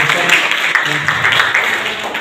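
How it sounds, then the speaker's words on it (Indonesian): Brief applause from an audience at a school gathering, a moderate wash of clapping lasting about two seconds with faint voices mixed in. "Tepuk tangan dulu buat"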